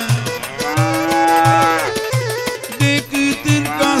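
Repeated cow moos sound over a live Romanian folk party song at a 50th-anniversary celebration, recurring rhythmically through the accompaniment like a sampled sound effect.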